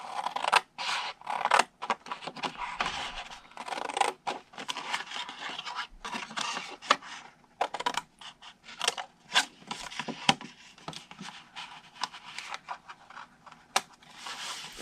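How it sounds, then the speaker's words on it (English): Scissors snip through cardstock pieces in a quiet indoor crafting setting, a series of close, crisp cuts and rustling paper handling in irregular bursts, with no voices. "So all 3 pieces we're just going to cut right off."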